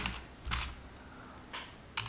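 Keystrokes on a computer keyboard while code is typed, three separated bursts of clicks with a press of the Enter key, close and fairly quiet, with no talking.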